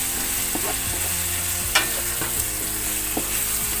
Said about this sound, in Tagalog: Ngayon, nagluluto tayo ng pechay. Ginisang pechay with hipon.